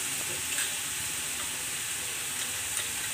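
Eggplants sizzling and frying in a pan of vegetable curry, a steady, close hiss with a continuous crackle and no talking.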